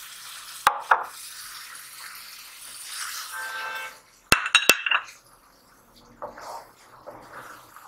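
Cashew paste and a splash of water going into a pan while making shahi paneer, with a few sharp metallic clinks of a utensil against the pan, some soft pouring and stirring sounds, and quieter moments in between.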